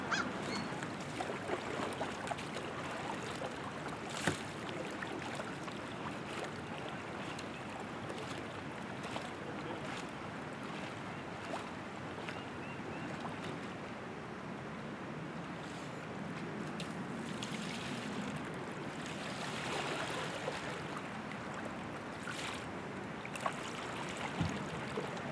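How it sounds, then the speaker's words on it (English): Steady wash of water and wind with soft rhythmic splashes of a paddle dipping beside a sleek, narrow touring kayak, continuous and fairly even, no talking. "Let's go hop in the boat and take it for a paddle."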